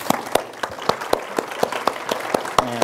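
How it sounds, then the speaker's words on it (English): A church congregation gives a round of applause after a baptism, producing a short burst of scattered, separate claps in an uneven rhythm that sounds fairly close. "And let's give him a round of applause."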